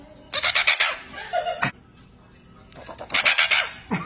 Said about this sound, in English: That's not a duck. That's a goose.